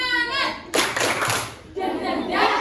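A group of children doing a spirit clap in a classroom, two bursts of many hands clapping together, loud and near, with young voices mixed in.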